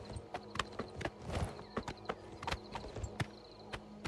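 Rhythmic clip-clop of horse hooves in Oblivion Remastered, close and crisp, with an occasional soft whinny and no talking.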